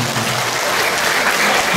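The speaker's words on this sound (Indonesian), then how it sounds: "Tepuk tangan." A crowd at a Banyumas community weaving training event applauds in a dense, loud burst of clapping that holds steady from start to finish.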